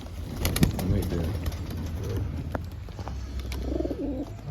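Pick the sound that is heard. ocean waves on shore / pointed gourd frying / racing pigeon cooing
racing pigeon cooing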